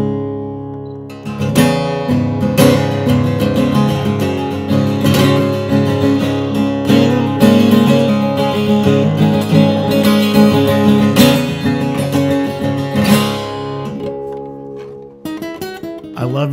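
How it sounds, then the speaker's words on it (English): An electric guitar with a paint-stripped top rings out alone in sustained, resonant notes and chords, close and full, with a brief pause near the end before it resumes. "It has almost like a classical thing, and it has an incredible tone. No guitar sounds like this."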